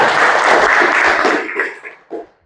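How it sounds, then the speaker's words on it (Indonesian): Applause for a student named Habib during a floor gymnastics physical education lesson, a short loud burst of group clapping that thins out into a few scattered final claps. "Oke, tepuk tangan buat Habib."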